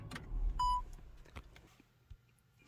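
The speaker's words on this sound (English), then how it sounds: "So what I'm going to do is shut the vehicle off." A 2021 Jeep Grand Cherokee L is switched off after being set up for flat towing. A short, clear electronic chime sounds up close, followed by a few soft clicks and thumps as the vehicle powers down, with no talking.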